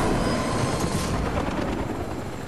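A helicopter in the Fortnite video game drones loudly and steadily nearby, its rotor making a dense, rushing whir that swells slightly partway through and holds without speech.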